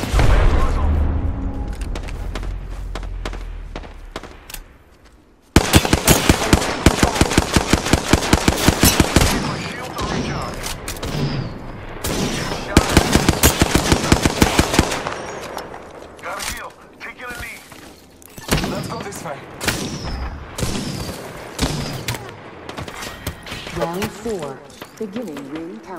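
Rapid bursts of automatic gunfire and booming shots in the video game Apex Legends crackle loudly in dense volleys, pausing between exchanges while a voice talks over the action.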